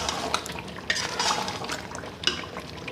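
Chicken biryani marinade with vinegar stirred in a bowl, a close run of wet squelching and scattered clinks of a spoon against the bowl, with no talking.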